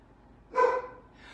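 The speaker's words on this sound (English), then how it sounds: "Let's see if my dog is gonna keep barking." A pet dog gives a single short, moderately loud bark in a quiet home kitchen during cinnamon roll baking, followed by a faint second yelp.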